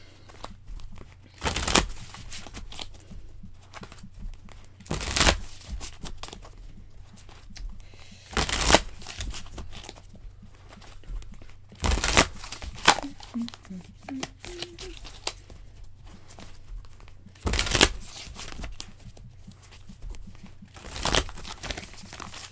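Tarot cards being shuffled in a series of sharp riffling bursts, about six evenly spaced across the stretch, with quieter card handling and a low steady hum between them.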